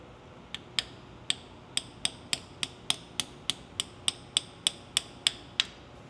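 A new rear ring seal is tapped into a 1996 Honda Integra Type-R DB8 engine block: sharp metallic taps repeat at a steady rhythm, about sixteen in all, close but fairly quiet.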